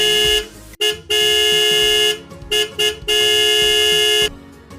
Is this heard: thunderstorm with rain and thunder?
no